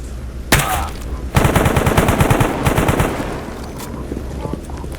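Automatic weapon fire in the video game Stalker GAMMA: a short opening burst, then a longer rapid, loud stream of rounds, fading into ambient noise with faint scattered sounds afterward.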